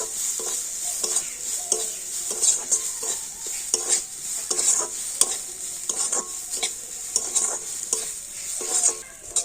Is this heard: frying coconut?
yes